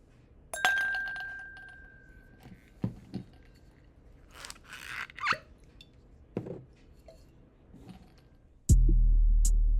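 Ice cubes clink against a glass a few times, sharp chinks and a crackling snap, followed by French rum pouring over the ice.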